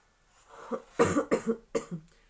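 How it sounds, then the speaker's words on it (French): A few harsh coughs in quick succession, close and fairly loud, after a softer breathy lead-in. "Je tousse beaucoup."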